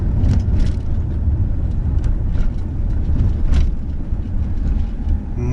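Steady low rumble of a taxi car driving through Odesa streets, loud and continuous cabin and road noise with faint ticks and knocks, no talk.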